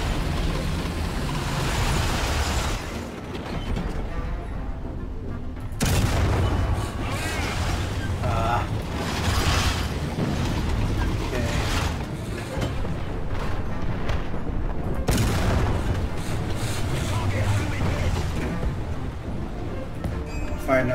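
Heavy gunfire and explosions from a War Thunder tank battle fought in a Hellcat, continuous booming and rumbling throughout, loud and dense, with brief shifts in the din.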